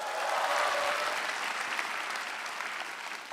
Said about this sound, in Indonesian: Tepuk tangan untuk 4 besar.